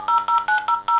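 Telephone keypad dialing tones: five short, evenly spaced dual-tone beeps in a steady rhythm, loud and clear with no voices.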